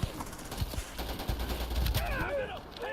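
Rapid bursts of gunfire from a gun in the game Starfield, sharp crackling shots under game noise and faint whooshing effects, moderately loud.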